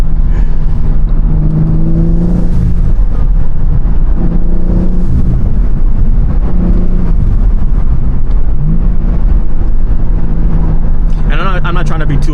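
BMW M3 Competition engine and intake drone steadily from inside the car as it drives on a city street, a low rumble rising and falling with throttle, while people talk throughout.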